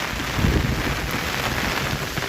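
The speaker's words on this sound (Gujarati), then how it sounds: "જો આ જે વરસાદ પડી રહ્યો છે" Heavy rain pours down beside the Machchhu river at Wankaner, a steady, dense, close hiss with no voices.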